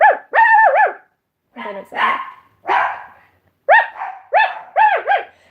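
A human voice imitates small yappy dogs, giving a burst of high, strained yips and barks in quick pairs and triplets, close up, with a few short spoken words slipped in between.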